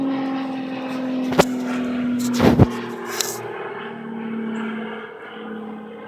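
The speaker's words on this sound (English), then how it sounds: "Airplane." A propeller airplane passes high over a flat, droning as a steady low hum through the clip, with a few sharp knocks and clicks breaking in nearby and no talk.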